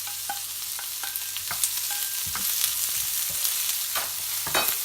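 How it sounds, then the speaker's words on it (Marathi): Onion frying in hot oil with cumin, curry leaves and green chillies, a steady close sizzle broken by scraping stirs, with no one talking. "सगळं गरम झाल्यानंतर त्याच्यामध्ये कांदा टाकायचा आहे।"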